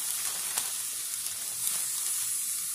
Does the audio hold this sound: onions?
yes